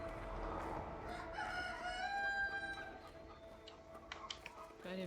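Rooster crowing and chickens clucking in the video game A Way Out, a drawn-out crow in the middle followed by scattered clucks, faint and fairly distant over a low ambient background.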